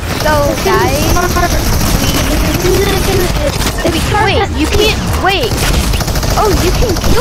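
Rapid Fortnite gunfire during a live in-game event, dense crackling bursts of shots running continuously and loud under excited talking voices.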